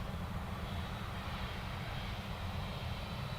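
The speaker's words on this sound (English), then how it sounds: "Lufthansa A321" A Lufthansa Airbus A321 taxiing after landing at Dublin Airport, a steady, broad jet-engine roar that stays even and fairly loud throughout without voices.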